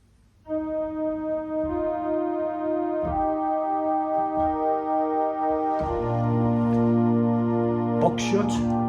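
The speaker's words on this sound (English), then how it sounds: "Next we have a Vox Celeste." Vox Celeste stop on a digital organ, a shimmering string-like chord with a gentle beating waver, held steadily and then shifting to a fuller chord, with faint clicks and no talking.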